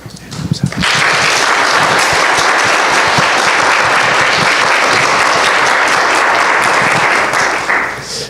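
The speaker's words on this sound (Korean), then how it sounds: "As our pastor comes out, please give him a round of applause." Church congregation applauding as the pastor comes out, a loud, sustained wash of clapping from a large crowd that swells in within the first second and stays full before easing slightly at the end.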